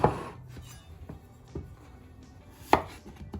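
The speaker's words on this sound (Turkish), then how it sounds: "Öncelikle arkadaşlar patateslerimizi doğrayıp" Several knife chops through potatoes on a cutting board, spaced irregularly, with one sharper thud near the end; quiet and close, no talking.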